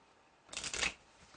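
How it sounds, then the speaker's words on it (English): A quick riffle shuffle of a deck of cards, a short burst of rapid papery flutter lasting under half a second, close and alone. "I'm going to shuffle the deck up."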